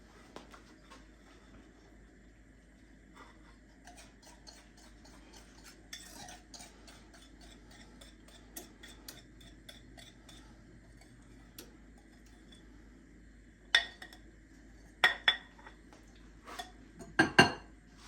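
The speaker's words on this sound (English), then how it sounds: "And now all we do is just put it in the pie shell." Chocolate chess pie filling going into a pie shell, with quiet scraping and ticking of a utensil against a bowl, then a few sharper clinks near the end.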